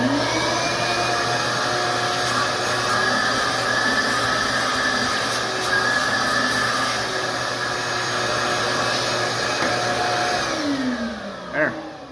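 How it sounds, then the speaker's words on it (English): A vacuum cleaner runs steadily and loud throughout, sucking hair off a brush, with a shift in its drone near the end as the nozzle moves across the bristles. "So then I just clean the brush off with the vacuum."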